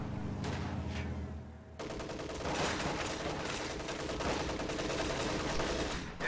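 Rifle squad gunfire in a video game battle, bursts of rapid shots and a fusillade of overlapping rifle and machine-gun fire, dense and continuous after a brief lighter opening.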